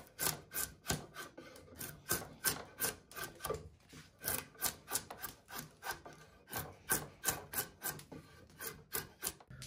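Drawknife shaving wood for bow making, a 10-inch straight Kirschen (Two Cherries) blade: repeated crisp rasping strokes, roughly two per second, close and moderately loud with no talk.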